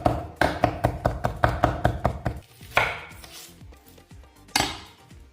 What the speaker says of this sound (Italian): Tritiamo il prezzemolo al coltello